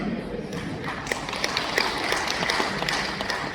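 Dense audience applause fills a coordination meeting hall in Central Kalimantan, many hands clapping in a continuous patter at moderate loudness, with voices mixed into the clapping.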